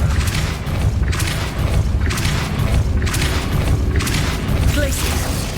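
Depulso spell cast in the Hogwarts Legacy video game, a series of heavy booming bursts repeating roughly every second over a rumbling game backdrop.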